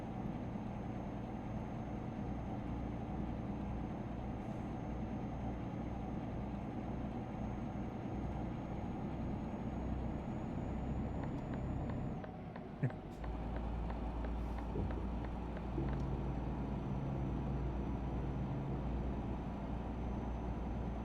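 Truck engine in Euro Truck Simulator 2, a steady low drone running continuously under a talking voice, with a brief gear-change dip partway through.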